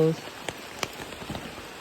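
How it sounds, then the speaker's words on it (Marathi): Steady heavy night rain hissing on a surface, with a few sharper drops or knocks standing out above the constant wash. "मजबूत आला पाऊस मजबूत आला"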